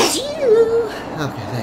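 A single sharp sneeze during a Let's Play of The Thing, loud and close, followed by people speaking.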